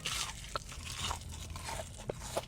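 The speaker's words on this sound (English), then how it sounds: "The guy eats food on camera, with only the chewing noises serving as background music" Close, quiet chewing and crunching of food in a mukbang eating session, with irregular crisp bites and wet mastication sounds in a steady run, no talking.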